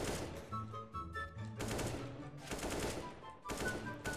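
Rapid bursts of automatic gunfire from the video game CS:GO, loud and continuous in several long volleys separated by short pauses, with faint game tones in the background.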